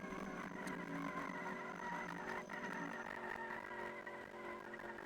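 Quad bike drifting in the Roblox game Mad City, a steady engine drone with tire noise and game sounds, loud and continuous throughout.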